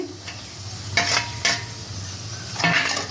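Chicken and carrots for chowmein are stir-fried in a pan, with a low continuous sizzle broken by a few sharp scrapes and clanks of a spatula stirring against the metal.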